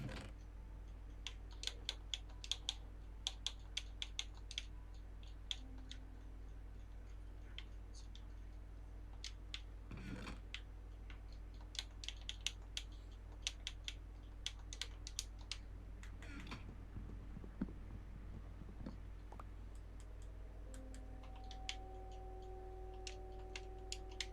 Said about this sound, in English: Gonna have to bear with some loud clicking for a hot minute.